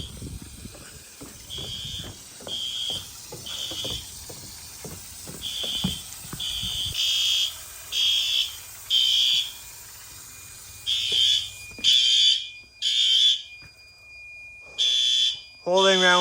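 A building fire alarm sounds in repeated loud electronic beeps during a fire sprinkler test on a newly upgraded water supply, the pulses grouped with short gaps while water hiss and voices come in earlier and then drop away.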